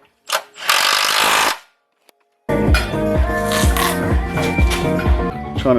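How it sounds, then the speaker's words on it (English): A power tool cuts a Nissan Elgrand front bumper: a short loud whining burst, a pause, then a steady harsh grinding buzz with a rhythmic stuttering pulse as it bites through the plastic. "We've marked out where we're going to cut the bumper."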